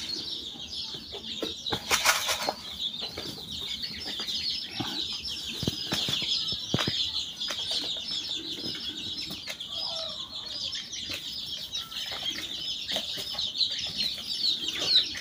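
Young chicks and hens cluck and cheep steadily in a coop, with a flurry of wing flapping and scratching near the start and repeated short clucks throughout, close and fairly loud.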